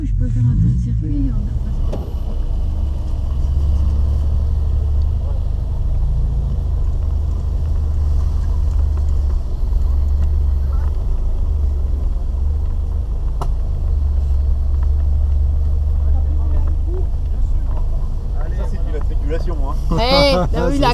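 A Citroën DS 23 rolling along a circuit track at a classic car gathering in La Ferté-Vidame, its engine a steady low rumble from inside the car, with people talking over it throughout.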